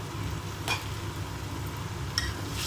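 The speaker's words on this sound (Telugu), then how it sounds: "బాగా కలిపేసుకోవాలి." Cooked poha stirred in a pan, a soft continuous scraping and light sizzle with two brief sharp clinks of a utensil against the pan, close and alone.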